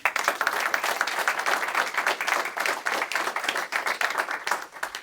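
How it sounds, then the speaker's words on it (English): An audience at a graduation ceremony at the College of Alameda claps steadily for about five seconds, a dense even patter of many hands with no voices. "Let's give them a round of applause."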